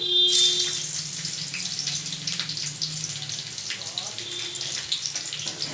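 Chopped green chillies hit hot oil in a pan, giving a close, loud sizzling hiss that flares at the start and then settles into a steady crackle.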